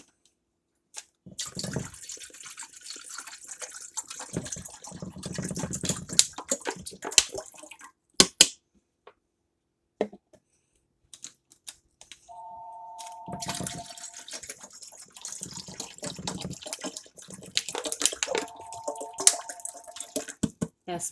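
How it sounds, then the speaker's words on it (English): Tap water runs into a kitchen pan for boiling noodles, splashing and drumming in bursts with pauses between, close by, while a person talks at times and a steady electronic tone beeps partway through. "I have to put some water in it, obviously, to boil the noodles."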